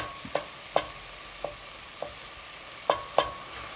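Meat browning in a pan for homemade California-style chili, heard as a low steady sizzle with several sharp scrapes and stirs of a utensil against the pan, spaced irregularly and close by.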